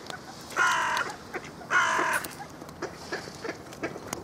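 Hooded crows at a bird house in Heinola, two loud harsh caws a second apart, close by, followed by fainter calls and rustling with no talk.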